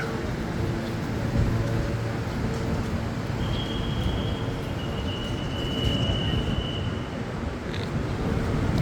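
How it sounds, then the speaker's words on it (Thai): A train draws in at Krung Thep Aphiwat station in Bangkok, a steady low rumble filling the platform with a thin high squeal midway, heard alone without talk. "รถไฟ กำลังมา"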